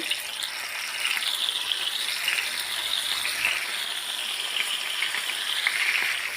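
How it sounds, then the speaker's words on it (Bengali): Pieces of fish fry in hot oil in a wok, giving a steady, moderate sizzling hiss with gentle swells and no talking. "কড়াইতে তেল গরম করতে দিয়েছি এখন মাছগুলোকে দিয়ে দেব"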